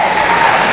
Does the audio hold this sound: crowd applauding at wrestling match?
yes